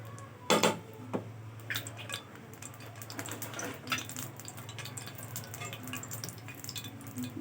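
Chili peppers sizzle in hot oil on a stovetop for a potato mash, a steady soft crackle with scattered pops over a low hum, one louder sputter near the start.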